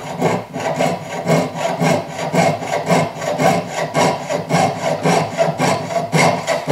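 Steady back-and-forth strokes of a fine saw cutting through silver for a ring, close and loud, with a rasping rhythm of about two strokes per second.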